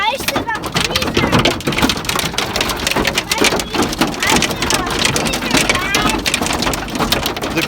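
A crazy hailstorm of ice pellets pounds down outdoors in a dense, steady rattling roar that never lets up, while voices talk faintly beneath the din.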